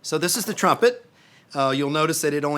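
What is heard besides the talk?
None of the usual background noises is heard.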